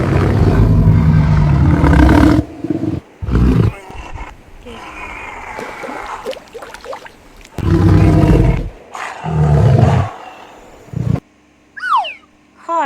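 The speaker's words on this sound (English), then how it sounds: "Lion." A lion roars in several loud, close bursts separated by short silences, with deep, rough grunting calls that rise and fade, and a brief lighter sound near the end.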